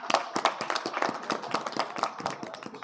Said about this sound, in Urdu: آپ نے تالیاں بجا کے اس بات کا ثبوت دیا